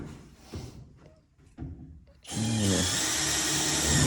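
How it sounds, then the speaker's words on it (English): Power drill drives screws into a board during a plumbing job, a couple of short bursts followed by a loud sustained whir close by, no talking. "put some screws in there so that side doesn't move"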